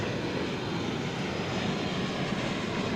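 A jet airliner at DFW Airport near the runway, a steady broad engine roar that holds an even level throughout, with no voices.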